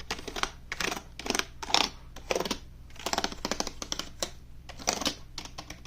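The keys of a cheap RGB-lit gaming keyboard are pressed in quick bursts, giving sharp clicky taps in clustered runs with short pauses between them, close and clear.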